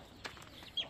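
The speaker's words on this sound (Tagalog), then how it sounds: "Kita ko sa inyo yung mga manok natin dito mga ka-Brandstar." Chickens clucking on a Filipino backyard poultry farm, two or three brief, faint calls over quiet outdoor ambience.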